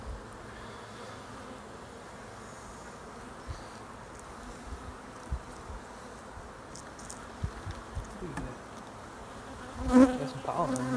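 Bees buzz around their nest while bringing in pollen, a steady low hum of many insects close by, with occasional louder passes and a brief knock near the end.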